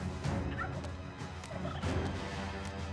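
Chickens in the Dungeons 3 video game make soft, fowl-like clucks and gobbling calls over a busy game background.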